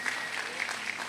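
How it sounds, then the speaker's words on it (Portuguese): A congregation claps at a 130th anniversary celebration of the first Adventist church in Brazil, a brief steady patter of many hands at moderate distance. "mais uma salva de palmas a todos aqueles que representam os nossos pioneiros"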